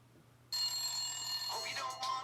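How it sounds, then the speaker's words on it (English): Telephone ringing starts abruptly after half a second and continues steadily to the end, fairly loud and alone, with a faint low hum before it. "Hope you don't wanna miss this phone call for you, Chris."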